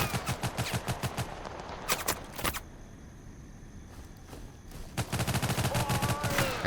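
Rapid automatic gunfire from teammates in the video game Total Conflict: Resistance, bursts of sharp shots at the start and end with a few loud single blasts in between, close and loud.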